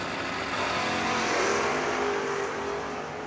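Drag racing at a track, a Ford Mustang against a Chevrolet, with a continuous engine roar heard from a distance as the cars accelerate down the strip, steady and moderately loud, with no voices.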